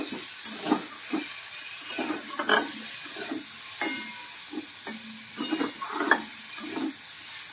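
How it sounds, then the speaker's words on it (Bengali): Paneer pieces frying in a pan with a little salt and turmeric, giving a steady close sizzle broken by repeated stirring and scraping strokes, with no talking. "একটু নুন দিয়ে পনিরগুলো ভেজে নিচ্ছি"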